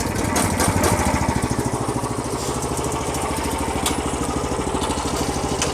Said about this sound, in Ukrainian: зараз ми цей мотоблок заведемо і покажемо, як він працює